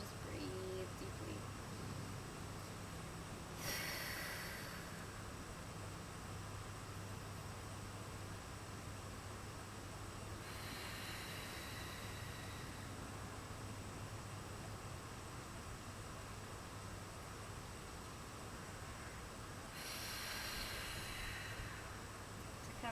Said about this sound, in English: Let my arms relax, let my head relax, and just breathe deeply.